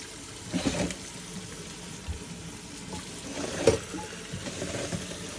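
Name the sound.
water rinsing cucumbers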